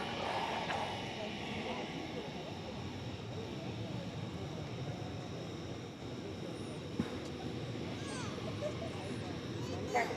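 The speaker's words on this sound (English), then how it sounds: "All right, now they're take off on the left." A jet airplane taking off at night at DFW airport sends up a steady, broad roar that holds for the whole stretch, with voices talking over it.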